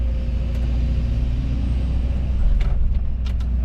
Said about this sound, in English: So now we'll spin the blade round